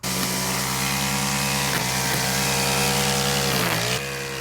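A gas string trimmer engine runs at high speed in a loud, steady drone close by, dipping briefly twice as the throttle eases, then drops off sharply near the end.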